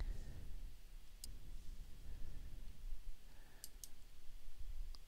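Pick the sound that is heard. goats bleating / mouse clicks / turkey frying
mouse clicks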